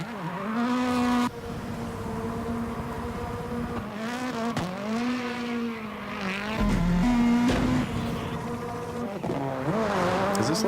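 Ken Block's rally car drifts with engine revs swinging up and down, sharp throttle blips and gear changes, and bursts of tyre squeal, loud and close throughout.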